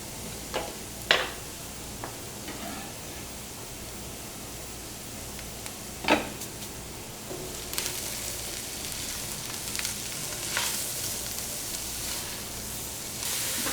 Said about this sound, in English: We're gonna ramp the heat up to high for about 4 or 5 minutes just to give them a nice, good browning